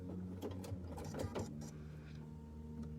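A recently oiled Bernina sewing machine stitches quilt binding, its needle running in a steady mechanical hum with light clicks of the mechanism, close and alone without talk.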